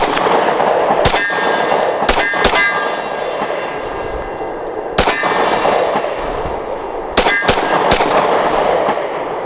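Stoeger STR-9C compact 9mm pistol firing American Sniper 124 grain Turkish ammunition, with sharp loud shots in irregular pairs and singles, each with a bright metallic ring, over steady outdoor background noise.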